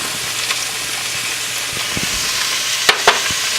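Wild mushroom soup sputters inside an Instant Pot, a steady close hiss and sizzle broken by a few sharp pops and spits near the end.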